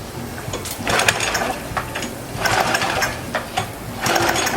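A small gasoline engine on a pressure washer with a suspected bad pump runs in a steady buzzing drone that swells and eases in loud pulses, with no talk over it.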